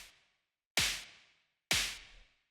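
Two punchy analog drum machine style snare hits, dry without bus processing, ring out a second apart, each with a sharp crack and a short decaying tail, alone in silence.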